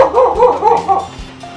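A dog at a Sardinian trattoria in Cala Gonone gives a few loud close barks and yips in quick succession, trailing off at the end.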